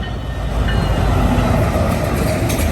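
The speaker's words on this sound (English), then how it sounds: "Empty ethanol out of Pennsylvania going back to Chicago with an NS SD70 ACU leader and some Canadian Pacific GEs." An empty ethanol freight train led by a Norfolk Southern SD70ACU locomotive with Canadian Pacific GE units rolls past, giving a steady, loud rumble of wheels and railcars close by with no voices.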